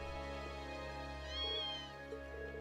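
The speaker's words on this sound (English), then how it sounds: "Quest missing kitten completed. I saved the kitty." Kitten meowing in the video game Trails of Cold Steel II, a faint single meow set against a steady droning game music and ambience bed.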